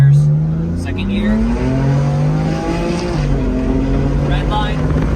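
A single-turbo BMW 335i accelerates hard in second gear, its engine note climbing steadily in pitch through the pull with a loud, close drone.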